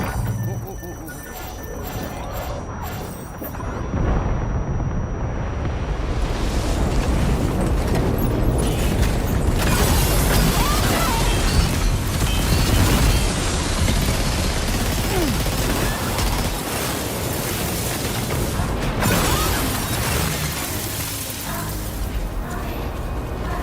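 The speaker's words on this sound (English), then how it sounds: "The Magellan's main cannon is online and ready to provide fire support." Heavy cannon fire from the Magellan's main gun in the video game Death Stranding 2, a sustained barrage of booming blasts and crashing impacts that stays loud and dense throughout, with voices occasionally underneath.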